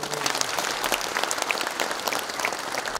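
An audience gives loud, dense applause to welcome an army ground operations command honor guard at a veterans' anniversary ceremony, a continuous clatter of many hands that cuts off sharply at the end.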